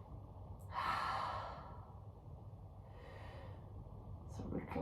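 Slow breathing held in a reclined spinal twist during yoga: two soft, airy breaths, one long exhale near the start and a fainter one later, close and quiet over a low room hum.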